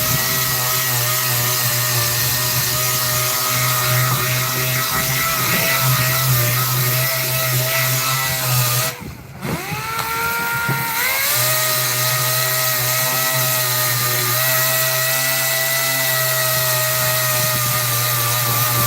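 A power sander with 60 or 80 grit abrasive grinds down a weld on a metal surface, a loud, steady whirring drone that dips briefly about halfway through before resuming at full strength.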